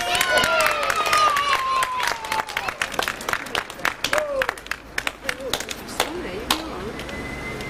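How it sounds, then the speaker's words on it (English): A crowd gives quick, scattered clapping and whoops for a performer, mixed with loud shouting voices and a sweeping whistle-like tone. Fairly close, with people talking over it. "everybody clap for Johnny."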